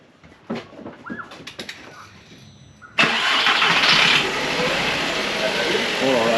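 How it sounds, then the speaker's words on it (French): An old engine cranks and catches after a quiet stretch, then runs on loud and rough, missing and vibrating, with people talking over it and a few bird calls in the background. "ça démarre"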